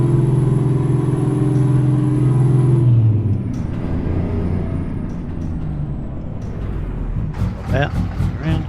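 A truck in Euro Truck Simulator 2 rumbles with a low engine drone that drops away as it slows, followed by a hiss of air brakes, while someone talks over it.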